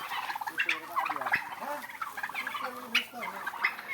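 Turkeys on a farm gobbling in repeated rapid warbling bursts, close and fairly loud, several calls overlapping across the whole stretch.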